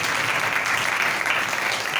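An audience applauds loudly and steadily at a church gathering, a dense wash of clapping with no pause for two seconds.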